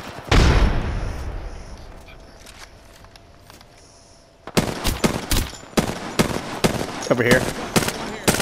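Rapid bursts of gunfire in the video game Apex Legends crack in quick repeated volleys, one heavy early shot and then a dense run of automatic fire, with players talking over the action.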